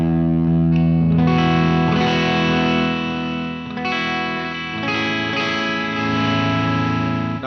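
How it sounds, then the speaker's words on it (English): Electric guitar played through a POD Go with a simple delay and plate reverb rings out in sustained distorted chords, notes trailing into echoing repeats and a lush tail, with no voices. "I put on a simple delay and a plate reverb to put some sonic dimension to the tone"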